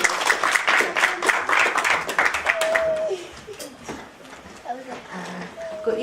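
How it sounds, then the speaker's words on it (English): At an evening panel event, audience applause for a speaker comes as a burst of many hands clapping that fades after about three seconds, followed by faint murmuring voices and room noise. "A round of applause."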